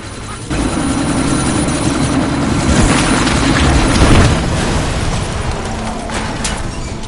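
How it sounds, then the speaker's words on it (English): A helicopter in the Deus Ex: Mankind Divided video game spins up for takeoff, its rotor roar loud and continuous, swelling to a peak midway before easing slightly, with no voices over it. "That chopper's about to take off!"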